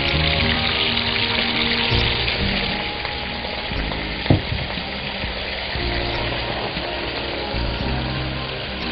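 Food fries loudly in a pan of hot oil, giving off a dense, continuous sizzle with spattering water, close up. A few soft stirring clunks come through and no one speaks.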